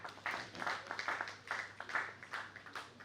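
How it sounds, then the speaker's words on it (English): Faint, distant audience applause at an African One Health and Biosecurity conference, a thin patter of clapping in uneven bursts that rises and falls without voices over it. "please put your hands together for them"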